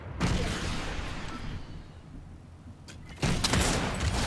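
Gunfire in the video game Fortnite: a sustained burst of shots fills the opening second or so, fades into quieter background, then a second loud burst hits near the end.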